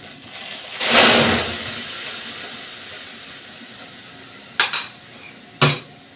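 A tomato, ginger and green chili spice paste for an oil-free soybean curry hits a hot pan with a short hissing burst, followed by two sharp metallic clinks of a utensil against the pan.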